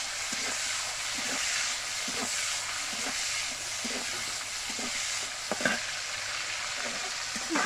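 Hot oil sizzles in a pan with a loud, constant hiss close by, overlaid by faint rhythmic scraping and a few light knocks near the end.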